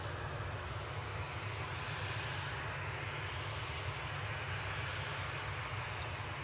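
British Airways airliner approaching to land at Newcastle airport, a steady, sustained engine roar with an even broad rush that stays constant, fairly distant and moderately quiet.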